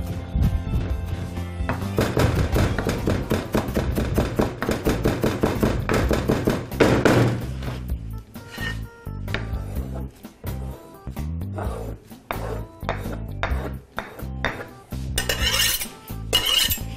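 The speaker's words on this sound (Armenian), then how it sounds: "Մանր կտրատում ենք մաղադանոսը։" Parsley chopped finely with a knife on a board, a rapid run of close, sharp knocks that later slows to spaced single cuts.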